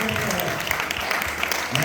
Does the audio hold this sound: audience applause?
yes